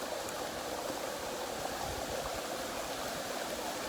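A waterfall in the forest gives off a steady, even rushing roar that fills the whole stretch without a break, with no voices over it.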